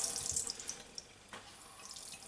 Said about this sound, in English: run a bit of water, align it up